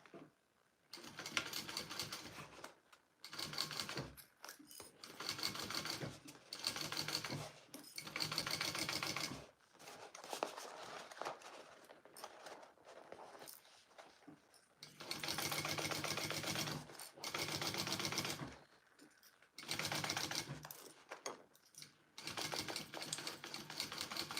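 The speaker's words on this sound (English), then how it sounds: "And we're gonna sew along the bottom." A sewing machine stitches along the bottom of a handmade bag in several loud, close bursts of rapid mechanical whirring, each separated by brief pauses.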